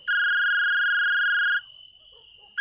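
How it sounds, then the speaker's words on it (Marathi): A loud electronic telephone ring sounds for over a second, pauses, then starts ringing again. "अचानक फोनची बेल वाजली"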